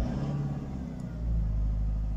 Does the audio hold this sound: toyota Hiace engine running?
yes